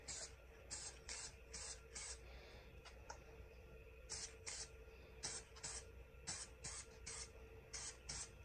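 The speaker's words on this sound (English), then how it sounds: "Okay, spray again." Short bursts of spray adhesive hiss from a can, repeated in quick pulses with brief pauses between them, close by over a steady low background hum.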